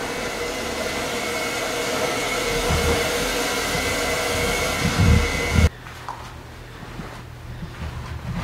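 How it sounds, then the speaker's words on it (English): A steady, broadband whoosh of a hair dryer runs loudly for several seconds, then cuts off abruptly, leaving a quiet room with faint rustling. "Hair dryer."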